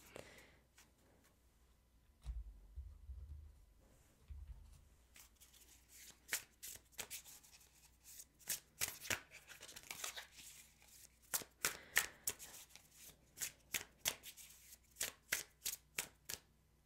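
Oracle cards being shuffled by hand during a card reading, soft riffling at first that builds into a steady run of crisp, close slaps and flutters, with no talking.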